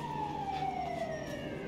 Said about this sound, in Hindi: एम्बुलेंस आ गए।